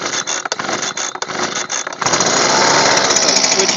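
A Husqvarna 125B leaf blower is cold-started on full choke, with a rough sputtering engine for two seconds before it catches and roars steadily at high revs, loud and close.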